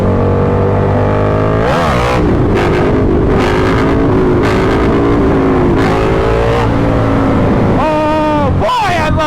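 A KTM Superduke 1290R in track mode pulls hard and loud up close, its engine wailing through rising revs with sharp gear shifts and throttle blips, over rushing wind.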